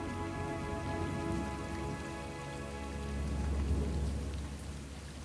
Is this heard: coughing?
no